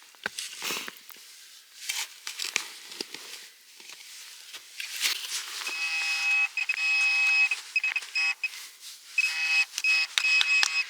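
A metal detector signals while hunting for winter finds outdoors, sounding a steady electronic tone that pulses on and off in the second half, after scattered scraping and digging noises.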